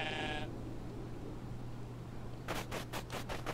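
Goats bleat in a burst at the start over a steady low hum, then a quick series of sharp, percussive bursts sounds near the end.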